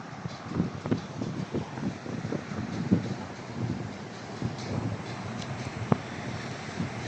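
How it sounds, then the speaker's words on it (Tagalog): Steady wind roars and rumbles against the microphone on a cold morning walk in Saudi Arabia, with occasional gusts and faint clicks, continuous and fairly loud, no talking. "Sobrang mahangin guys, sobrang lamig."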